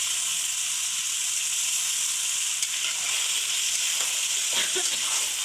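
Chicken pieces fry in a pan with a steady, loud sizzle and hiss. Occasional soft stirring clicks break through the even crackle, and no one speaks.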